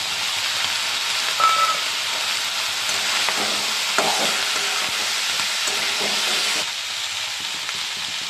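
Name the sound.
vegetables frying with chilli powder and turmeric, stirred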